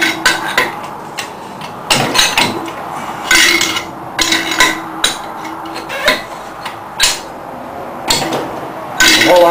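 Hammer pounding on a dual permanent magnet wind turbine rotor assembly, a series of loud, sharp metallic strikes in an irregular rhythm with short pauses between them, close by.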